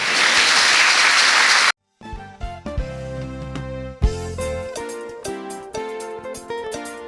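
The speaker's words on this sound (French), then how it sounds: "On acclame le Seigneur" A church congregation applauds loudly for about two seconds, then the sound cuts abruptly to music with no clapping.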